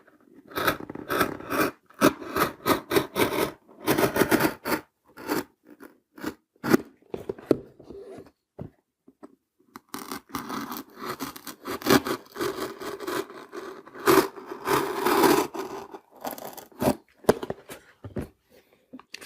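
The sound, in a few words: cutting cardboard out of a box with a cutting tool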